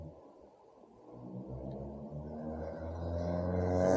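Loud modified mufflers on Honda Civic cars in town rumble at a distance, swelling in a low, droning growl that builds steadily louder.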